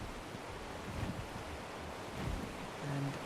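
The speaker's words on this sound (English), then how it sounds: "And I can hear a waterfall" Waterfall in ARK Survival Evolved, a steady broadband rushing wash heard from a distance, constant and fairly faint, with no voices over it.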